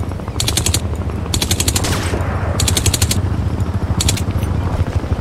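Loud, close automatic gunfire in the shooter game Crysis Remastered, fired in four sharp rapid bursts separated by short pauses, with no talking over it.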